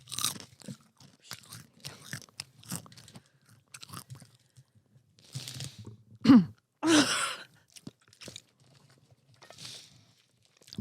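A crunchy silkworm is chewed close to the mic in a few quick, sharp crunching bursts amid quiet rustles and breaths.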